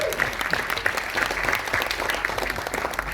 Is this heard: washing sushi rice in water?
no